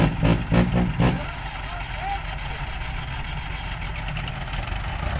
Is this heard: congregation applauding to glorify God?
no